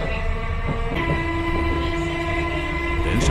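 A Chikuho Electric Railway electric train rattles past loudly nearby, with rumbling wheels, clattering rail noise and a sustained tonal whine.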